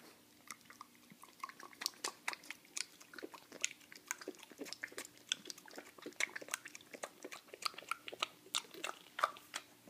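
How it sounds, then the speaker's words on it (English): Pet dog licking and chewing peanut butter up close, a quick irregular stream of wet smacks, clicks and small crunches, faint but steady throughout. "about to give Pie a little bit of peanut butter"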